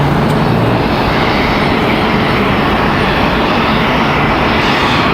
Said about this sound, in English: a Cessna Citation CJ3